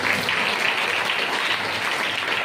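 An audience at a Christian church service claps loudly, a steady dense wash of applause throughout with no voices on top.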